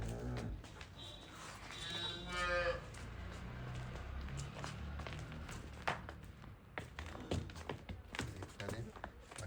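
A cow moos once, close and drawn out, on a dairy farm among livestock, followed by rustling, clattering farmyard noises and scattered knocks, with someone talking throughout.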